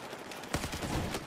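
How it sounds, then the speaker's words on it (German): Gunfire in the video game Battlefield 4 multiplayer: a short burst of rapid shots cracking in after a quiet moment, moderately loud, with no talking during it. "Da kommt gerade Schüsse, aber ist wohl weg."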